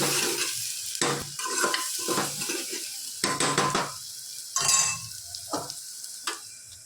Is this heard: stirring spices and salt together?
yes